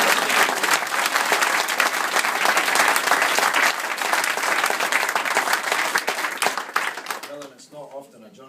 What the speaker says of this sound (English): it's not often a journalist gets applauded